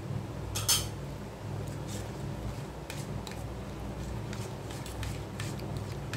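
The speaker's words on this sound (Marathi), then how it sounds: "आता हे बरे भशेन चाळून घेता, सारके मिक्स कर" A spoon scrapes and clinks against a bowl while a mango halwa and condensed milk mixture is stirred, with a sharp clatter near the start and then a steady run of soft scrapes and taps close by.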